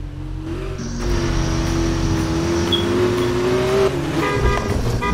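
An Audi's engine revs steadily in a racing video game, a loud sustained tone with rising and falling pitch and a brief shift near the end, with no voices over it.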